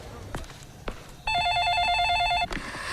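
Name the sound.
landline telephone ringing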